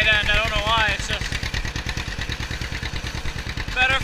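A 1954 John Deere Model 60 tractor engine chugs in a steady, loud, rapid putt-putt rhythm, close up, with a high whine over it at the start and end.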